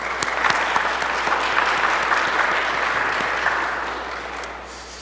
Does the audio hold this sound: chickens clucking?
no